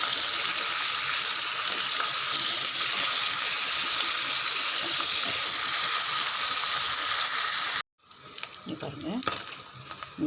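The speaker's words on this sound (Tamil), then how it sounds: "பன்னீர் எல்லாம் ஒன்று ஒன்றா எண்ணெயில் சேர்த்துருங்க" Paneer pieces fry in hot oil with a steady, loud sizzling hiss for about eight seconds, then a cut to quieter kitchen sounds with a faint voice.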